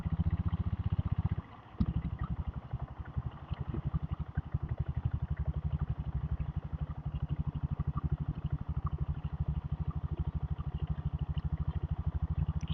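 A diesel Royal Enfield Bullet rides between Keelkattalai and Gowrivakkam with its governor adjusted and lacking pickup. Its close, steady, rapid thumping exhaust beat runs throughout, easing briefly near the start.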